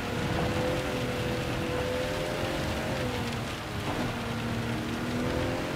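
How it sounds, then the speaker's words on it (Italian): Heavy rain pours steadily over a race track in the driving game Gran Turismo 7, a dense continuous hiss with faint engine drone underneath and no talking. "È proprio pioggia pesante"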